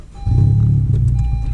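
A modified 10th-generation Honda Civic Si fires up from a warm start, a deep, loud low rumble that kicks in abruptly and holds steady for a moment, with no voices.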